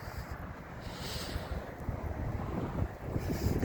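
Wind blowing outdoors on a sunny day, a steady low rushing roar buffeting the microphone, continuous and moderately loud with no talk.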